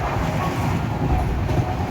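Steady rumble of a train running on rails through rainy, flooded countryside, a continuous close and loud roar of wheels and carriage with no speech.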